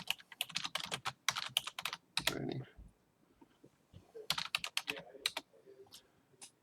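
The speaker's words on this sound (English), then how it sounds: "I'll just type something quickly." Rapid bursts of computer keyboard typing, loud and close, in two runs separated by a short pause with a brief rustle, with no talking over it.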